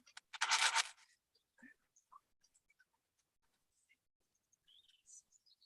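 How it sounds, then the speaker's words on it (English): Faint, scattered bird chirps drift in from outdoors through an open window, brief and distant, following a short burst of scratchy rustling close by. "I like Tim Jackson when he sits outside or has his window open and you hear all those birds"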